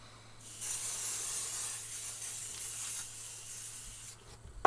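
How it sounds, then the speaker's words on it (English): Sparkle spray coating hisses from an aerosol can in one long continuous close burst, steady and loud, cutting off just before the end. "I'm just going to use my spray and sparkle."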